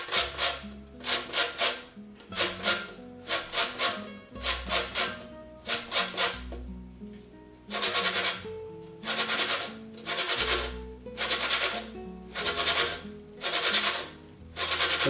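Lemon being grated on the fine side of a grater into cream cheese, close rhythmic rasping strokes in short bursts with brief pauses between runs.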